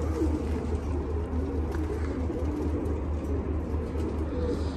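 Homing pigeons coo continuously in a loft, a dense, low, throaty murmur of many birds overlapping at steady loudness with no talk.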